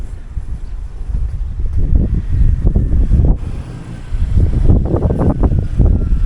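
Gusty wind buffets the microphone in low, uneven rumbling bursts, loud and close, with faint traffic-like noise underneath.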